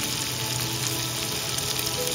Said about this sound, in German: eine Pfanne mit Öl und Speck kommt drauf